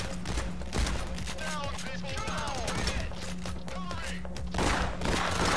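Gunfire in the heist shooter PayDay: The Heist: dense overlapping shots and thuds under steady background noise, with voices shouting over the fighting.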